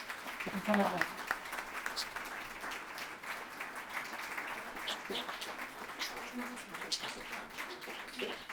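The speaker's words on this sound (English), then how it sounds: "let's have a round of applause for Stephanie and Scott." Applause at an environmental group's annual meeting, with a crowd clapping steadily for several seconds, dense and sustained, heard from within a large room.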